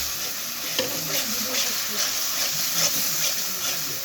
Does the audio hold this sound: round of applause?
no